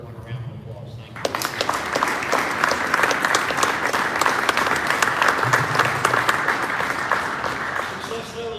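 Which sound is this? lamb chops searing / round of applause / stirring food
round of applause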